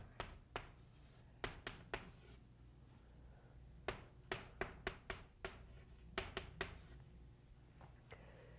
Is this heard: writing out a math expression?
yes